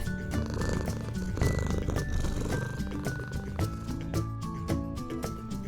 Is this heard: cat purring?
yes